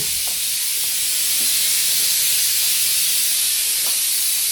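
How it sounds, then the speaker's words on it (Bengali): A pressure cooker in a home kitchen vents steam in a loud, continuous hissing whistle that holds steady throughout, with faint clinks in the background. "ওই যে সিটি উঠছে"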